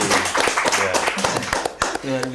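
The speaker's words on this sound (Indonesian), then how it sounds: "Tepuk tangan." A short burst of audience hand claps at an Indonesian political talk event, heard briefly and mixed with someone speaking over it.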